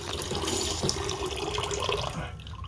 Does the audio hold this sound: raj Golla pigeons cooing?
no